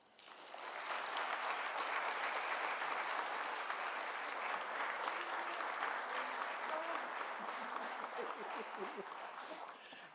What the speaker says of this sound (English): join me in one large round of applause